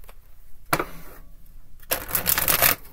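A tarot deck gets shuffled in two bursts: a brief riffle of cards, a pause, then a longer, louder riffle and riffling flutter close by, with no talk over it.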